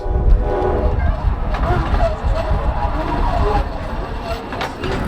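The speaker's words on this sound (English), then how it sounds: "It also has a solar powered train, which is pretty different to normal jetties, and the train looks to be on its way" A solar-powered jetty train rumbles steadily nearby as it approaches, with low mechanical noise, a faint horn-like tone and people talking over it.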